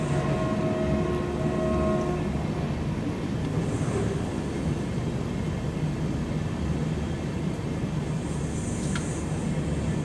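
Poorna Express train slowly entering Londa station, heard from inside an AC 3-tier coach as a continuous low rumble and steady rolling noise of wheels on track, with faint squeals toward the end and no talk.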